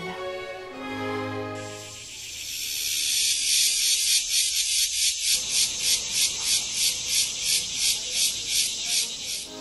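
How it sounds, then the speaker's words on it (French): Cicadas sing in a three-hectare wooded park at a villa in Fréjus, a loud, dense, pulsing high buzz that swells in steady rhythmic waves after a short moment of talking at the start. "Moment cigale."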